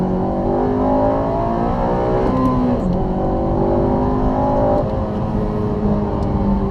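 An 8th-generation Honda Civic Si engine revs hard toward its VTEC range near 6,000 RPM, a loud continuous rising whine heard close up, with gear changes that briefly drop the pitch before it climbs again.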